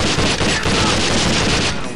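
A flashbang grenade detonates in the tactical shooter SWAT 4: The Stetchkov Syndicate, giving a loud, dense burst of crackling noise that holds steady for nearly two seconds, mixed with rapid gunfire-like popping before it tapers off.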